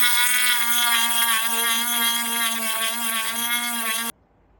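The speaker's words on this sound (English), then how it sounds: "grinding the gel coat off with my Dremel tool" A Dremel rotary tool with a cobalt sanding drum grinds gel coat on a Precision 16 sailboat's chain plate area, a close, high-pitched steady whine with slight wavering pitch that cuts off abruptly near the end.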